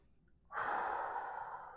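A person breathes out slowly during a shoulder stretch: one long, close exhale begins about half a second in and trails off softly, with no talking.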